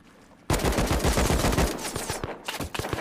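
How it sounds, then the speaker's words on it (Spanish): Rapid automatic gunfire in the survival game Rust, a loud close burst of many quick shots that starts abruptly, then breaks into scattered single shots and another short volley. "Me disparan."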